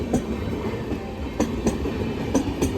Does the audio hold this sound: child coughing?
no